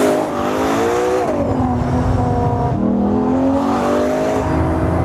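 Ferrari Purosangue engine revs hard and close, the pitch climbing, dipping and climbing again through several sharp, loud pulls.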